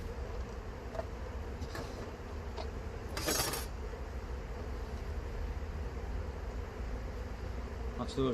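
Drone honey bees buzz steadily inside an open hive during an inspection, a continuous low hum close to the microphone, with a brief brighter rustle partway through.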